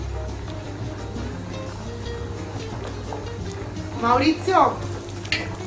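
Rice fritters frying in hot oil, a steady low sizzle throughout with a louder burst of bubbling near the end, while people talk over it.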